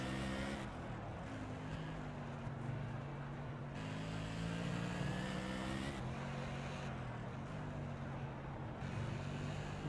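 Race car engine in iRacing at Oran Park road course, holding a steady high drone with harmonic pitch shifts as throttle rises and falls through several gear changes, loud and continuous with no talk.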